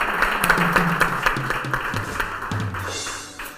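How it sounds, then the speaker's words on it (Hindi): A studio audience on a TV morning show applauds the cameraman with dense, steady clapping that fills the whole stretch before tapering slightly at the end. "तालियां बजाइए कैमरामैन के लिए, तालियां बजाइए।"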